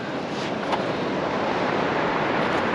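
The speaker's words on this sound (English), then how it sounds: "We're still getting some rollers coming in" Sea waves rolling onto the South Wales coast at Monknash, a steady broad wash of surf with wind, continuous and moderately loud, with no talking.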